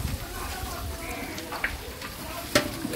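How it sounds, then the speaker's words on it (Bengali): Chicken fries in spiced masala on a rooftop stove, a steady close sizzle and crackle with occasional sharp pops and stirring scrapes, faint voices in the background. "মশলাটা কষানো আর মুরগিটা ভেজে রাখছে"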